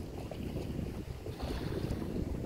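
Wind buffets the microphone at a West Sea shoreline, a steady loud low rumble with gusty surges throughout and no voices.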